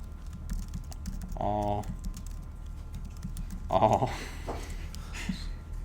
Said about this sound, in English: So I press I, and then I type Tom, all.